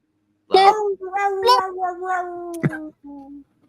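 A human voice imitates a cat's drawn-out meow, rising and falling over a few seconds.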